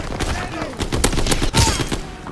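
Rapid bursts of AS-44 assault rifle fire in a Call of Duty WW2 match, close and loud, with repeated sharp cracks spread across the moment.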